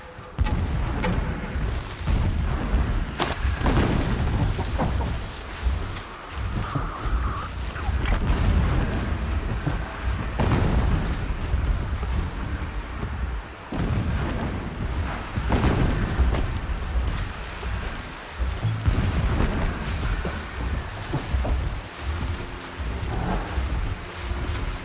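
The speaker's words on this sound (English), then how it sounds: "Explosions in the distance." Distant explosions in the video game Horizon Zero Dawn, a continuous rumbling wash of booms and crackling blasts with repeated heavier thuds, steady and dense throughout.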